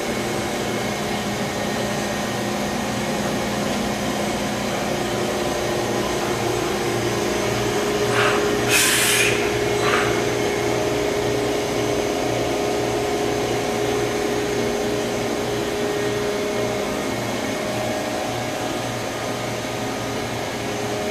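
Kitamura HX300 horizontal machining center running steadily, a constant mechanical hum and whir heard from behind the machine, with one short hiss of air partway through.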